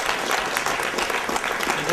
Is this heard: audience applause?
yes